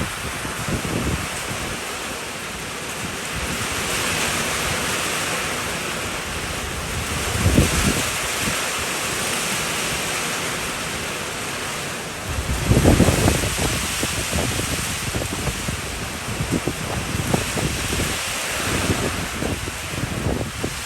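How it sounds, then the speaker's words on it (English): Rain falling outdoors, recorded on a cell phone, a steady broadband hiss with a couple of louder gusty surges, no talking. "we actually got a 1/4 inch of rain, and I'll put in some video right here that I shot with my cell phone"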